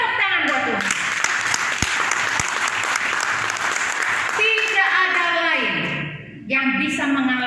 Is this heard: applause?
yes